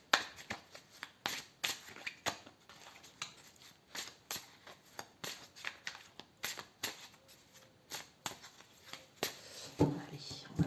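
Oracle cards being shuffled by hand, a steady series of soft, crisp flicks and slaps repeating roughly every half second, close and fairly quiet.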